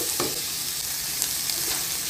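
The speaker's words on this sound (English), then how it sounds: "Saute until the carrots half cook lang, guys, ang carrots." Carrots sizzle and fry in a pan as they are sautéed for sweet and sour chicken fillet, a close, steady crackle with a few brief scraping stirs and no voices.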